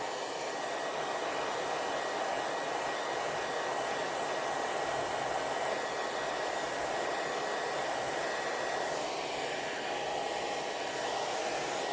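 A small hair dryer blows continuously with a steady whirring hiss, constant and close, with no talking.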